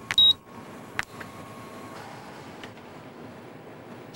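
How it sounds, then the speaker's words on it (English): A computer terminal gives a short high electronic beep, then a couple of fainter clicks and blips over a quiet background hum. "my terminal beeped for the 100th time."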